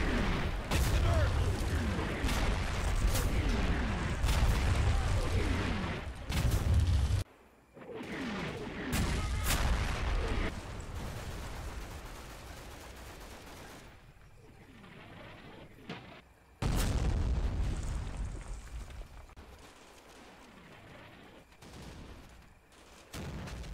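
Artillery barrage in a World War II Italy wargame, heavy booms and rumbling fusillades in bursts with brief gaps, loud and close, mixed with chirping birds and some voice.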